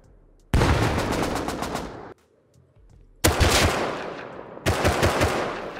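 Rust automatic rifle fire comes in three loud, close bursts of rapid shots, separated by short gaps of near silence.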